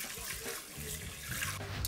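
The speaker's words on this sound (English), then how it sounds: "So you fill this up with water and then you rinse it." Water runs from a kitchen tap into a pot of rice being rinsed, a soft continuous splashing trickle, close but quiet, with no talk over it.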